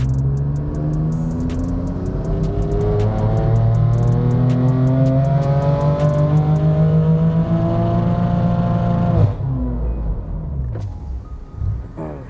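A BMW M3 F80 on E76 fuel, modified in pursuit of 1,000 horsepower, strains through a full dyno pull, its loud engine note climbing for around nine seconds before cutting off sharply, leaving a lower rumble.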